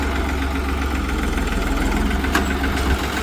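A New Holland 3630 TX 55 hp turbo tractor engine runs steadily close by, a constant low diesel rumble with even vibration and no talking.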